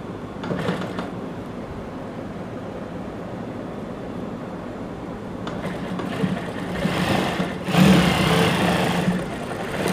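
A sewing machine stitches lace onto organza pants, its motor giving a steady whirring hum throughout that swells louder for a stretch toward the end.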